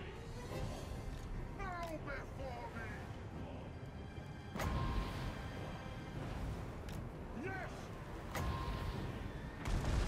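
Video game gunfire in a war campaign crackles in scattered shots and bursts with a few heavier booms, set over a dense battle din with someone talking throughout.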